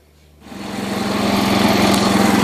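A John Deere 210 lawn tractor engine starts after a quiet moment and settles into a loud, steady, close running drone with a fast pulsing rhythm.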